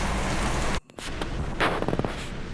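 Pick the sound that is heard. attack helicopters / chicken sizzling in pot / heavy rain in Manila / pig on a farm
heavy rain in Manila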